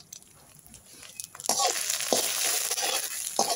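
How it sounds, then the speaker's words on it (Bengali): Ghetkol leaf bhorta being stirred with tamarind in a pan, a faint clatter at first, then a louder, steady sizzling hiss broken by a few sharp scraping knocks of the spoon. "তেঁতুলটা দিয়ে একটু নেড়ে চেড়ে আমরা নামিয়ে ফেলবো।"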